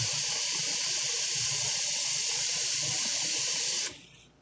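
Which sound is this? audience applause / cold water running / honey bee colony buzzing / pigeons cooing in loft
cold water running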